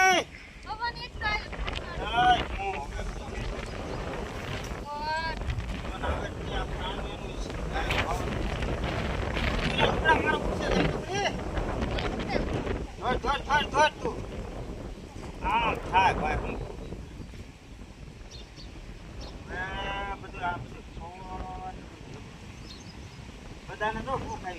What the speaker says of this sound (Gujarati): વરસાદ નહીં આવે પવન ચડી ગયો